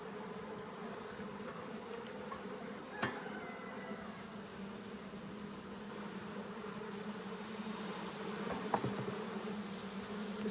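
Honeybees hum steadily over hive frames on a farm during a nectar flow, a soft, continuous drone at moderate distance with a couple of faint clicks and knocks.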